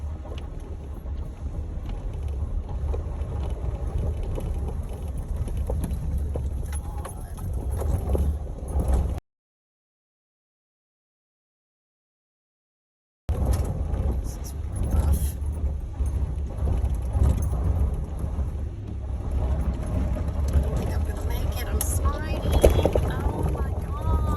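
A vehicle climbs a slippery driveway while delivering a freezer, its engine and road noise a steady rumble with wind buffeting the microphone and people talking throughout. A few seconds of complete silence break the middle.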